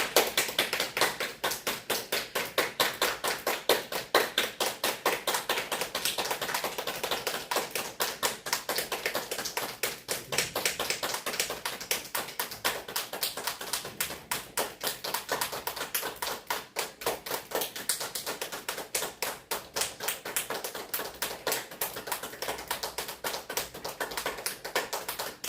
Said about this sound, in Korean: 자, 박수 100번 하겠습니다.